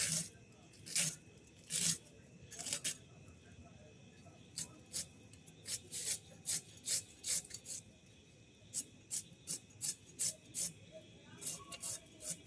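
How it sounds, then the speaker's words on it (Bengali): Cabbage is sliced with a knife in a home kitchen, crisp crunching cuts in irregular bursts, then a faster rhythmic series of chops, near and moderately loud, with occasional speech. "বাঁধাকপি কাটছি।"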